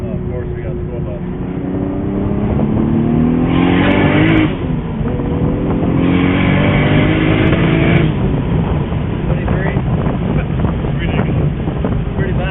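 A tuned car accelerates hard with a loud exhaust, engine roaring and rising in pitch through two gear changes, recorded from inside the cabin with wind noise and some talking.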